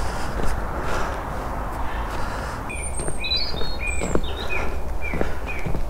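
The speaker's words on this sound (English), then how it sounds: "Can you hear the birds?" Small birds sing and chirp outdoors at a heritage park in Ireland, a series of high, clear whistles and quick warbles in the middle distance over a steady breezy outdoor rush.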